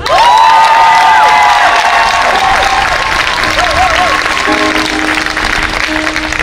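Church congregation at a Monday worship service cheering and clapping together, a loud continuous crowd roar with applause and shouts throughout, while voices call out and a sustained tone sits underneath.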